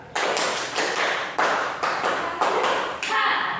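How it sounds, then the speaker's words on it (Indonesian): Elementary school children at SD Negeri 3 Tanrutedong clap in unison in a steady one-two pattern, repeated loud crowded claps in pairs filling the room, with a brief voice at the end. "Tepuk satu dua."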